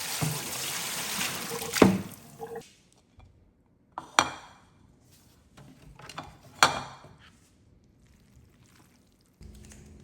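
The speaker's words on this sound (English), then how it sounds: "Quickly dip fresh noodles in boiling water and drain." Fresh rice noodles for homemade Vietnamese beef pho are dipped in a medium pot of boiling water and drained, giving three short bursts of pouring and splashing water with quiet dripping between them and no talk.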